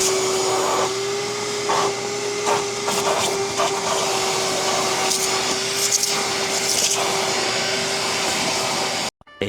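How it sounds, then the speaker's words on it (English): A vacuum cleaner runs inside a Ford F350 truck cab, a loud steady whine with a constant motor tone and brief sucking and bumping changes as the nozzle moves, cutting off abruptly at the end. "first thing I need to do is vacuum up in here"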